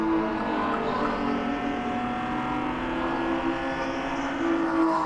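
Race cars at Lime Rock Park during a ChampCar endurance race, one braking hard to overtake a Miata, with a steady engine drone rising and falling in pitch over continuous road noise.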